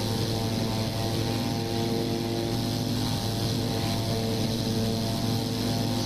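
WWI propeller aircraft engine droning steadily at takeoff power in the flight game Wings Over Flanders Fields, a continuous loud buzzing hum with no voices.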